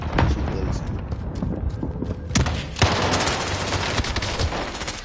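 Rapid gunfire in a video game crackles and bursts near and loud, with sharp shots standing out amid continuous firing and noisy game action.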